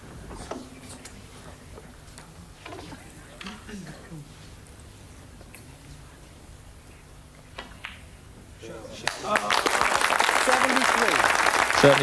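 Snooker crowd applauding Ronnie O'Sullivan's break: quiet room with sparse ball clicks and low murmurs, then loud, sustained clapping swelling in for the final few seconds.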